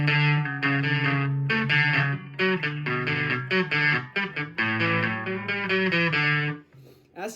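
Guitar riff played with a distortion effect, an amateur player's practice riff, loud and sustained with rhythmic chord changes and brief gaps, alone with no talking.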